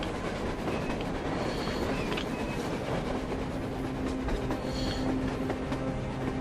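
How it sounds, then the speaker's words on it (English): A train rumbles past on the surface in the video game Metro Exodus, a steady loud roar with clattering wheels and a faint high squeal, continuous and fairly near throughout. "A train! A damn train on the surface!"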